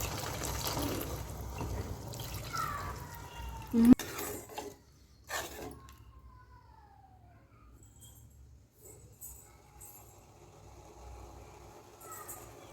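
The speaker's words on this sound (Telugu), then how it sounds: "ఇప్పుడు సరిపడ నీళ్ళను పోసుకోవాలి." Water poured into a pot of Andhra-style country chicken curry: a rushing, splashy pour for about four seconds, then quieter stirring clinks and faint kitchen noise.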